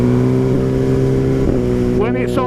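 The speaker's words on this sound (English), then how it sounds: "The exhaust is a bit louder than the Pipeworks" Motorcycle engine with an aftermarket exhaust idles steadily with a deep, even hum, blipping slightly mid-way before a voice speaks near the end over the running engine.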